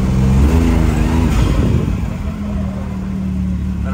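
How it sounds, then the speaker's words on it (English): A side-by-side UTV fitted with an RPM charge tube revs loudly and up close at first, its engine note building then easing back to a steady, slightly lower drone that holds to the end. "you guys can really hear it whenever I'm giving it some gas"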